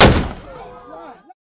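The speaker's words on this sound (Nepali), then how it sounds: "उनीहरू घर पुगेपछि बन्दुक पड्काइन्छ, जसको अर्थ हुन्छ महिलाहरू घरमा पुगे।" A single gunshot fired at a ceremony to signal that the women have reached home: one sharp, loud crack followed by a ringing echo that rolls away and fades within about a second.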